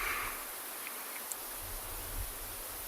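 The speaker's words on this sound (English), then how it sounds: "Hear the wind blowing through the grass and through the bushes." Wind sweeping through grass and bushes on an evening safari in the Kalahari, a steady soft broadband hiss with gentle swells and low rumbling gusts, no voices.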